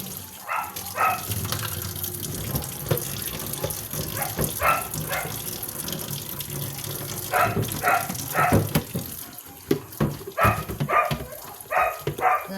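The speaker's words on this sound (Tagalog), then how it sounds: "salud ko og kanang tubig sa pitsin." Water is poured into a basin with a steady splashing gush that runs throughout, joined by faint intermittent clatter and brief higher sounds, with no talking.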